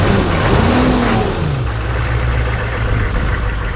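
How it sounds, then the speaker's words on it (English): A 1994 Chevrolet Silverado 4x4 pickup engine revs up and drops back, a loud, close rumbling drone whose pitch rises then falls before settling into a steady idle. "Rev it up a little bit."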